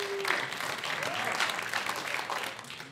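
Comedy show audience at the Naro Theater applauding, steady clapping from a mid-sized crowd that holds at a fairly loud level and then fades at the end, with no one speaking.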